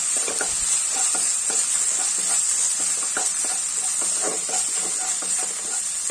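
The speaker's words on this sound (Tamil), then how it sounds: "தக்காளி ஆட் பண்ணி தக்காளி வதக்கிக்கலாம்" Chopped tomatoes sauté in a hot pan for a South Indian paal kari, with a constant sizzling hiss and a series of scraping stirs from a spatula, close and alone with no talk.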